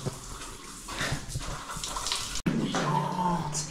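Natural volcanic hot spring water running in a shower, a continuous rushing spray close by, with a brief cutoff before it resumes, while people talk over it.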